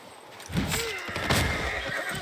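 Horse in the Civilization 6 strategy game whinnies once, a loud rising-then-falling neigh over soft game ambience, with faint clip-clop hoofbeats around it.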